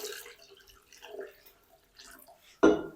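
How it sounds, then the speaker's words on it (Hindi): Water poured into a wok holding potatoes in a home kitchen for a potato snack, with a soft drip and splash building to a louder, close pouring burst near the end. "अब हम इसमें शामिल कर देंगे पानी।"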